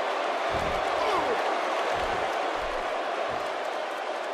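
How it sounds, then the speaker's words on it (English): A dense, steady roar of an arena crowd in the WWE 2K17 wrestling game fills the space, with occasional dull thuds from the ring beneath the constant cheering. "Would you listen to this crowd?"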